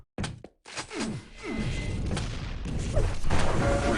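Railgun shots and impacts in a fast Quake deathmatch, a few sharp thumping blasts near the start followed by dense continuous gunfire and explosions, loud and busy throughout.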